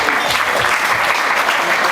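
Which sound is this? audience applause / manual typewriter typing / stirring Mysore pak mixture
audience applause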